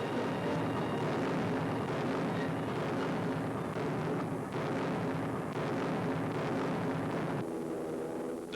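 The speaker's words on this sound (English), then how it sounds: "Guns were first to blaze into action." Massed artillery guns open fire at the start of a 1942 desert battle, a dense continuous roar of booming blasts rumbling together, loud and unbroken throughout.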